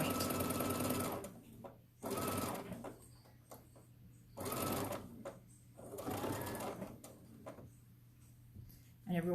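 A sewing machine stitching quilt pieces in short runs of rapid mechanical whirring and clatter, close and clear, alternating with quiet pauses, while a person talks in between.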